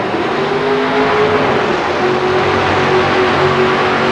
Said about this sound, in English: As he leaves the starting line with a lot of tire spin, you see the flashes of fire out of the pipe